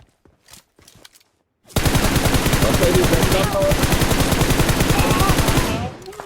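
Rapid automatic gunfire in PUBG Mobile erupts after a few faint sounds and a pause, then a loud, sustained machine-gun burst of evenly spaced shots runs for over four seconds before stopping.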